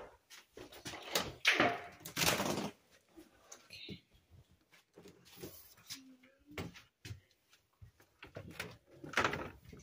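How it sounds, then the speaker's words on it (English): Back door of a house for sale being handled and opened, with a few scraping and knocking bumps and rattles up close, irregular and moderately loud amid quiet room noise. "That's the back door."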